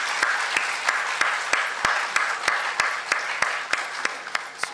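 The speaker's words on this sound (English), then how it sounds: "Big round of applause for Varun too." Audience applause at a Bharatanatyam arangetram, a steady wash of clapping from the hall with sharp, regularly spaced claps standing out near the front, continuing evenly throughout.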